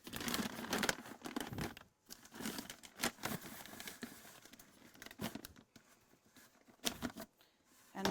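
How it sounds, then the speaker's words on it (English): A plastic bag placed on a bucket for a soil sample crinkles and rustles in irregular bursts with brief pauses, close and fairly quiet, no talking. "Put the plastic bag on the bucket."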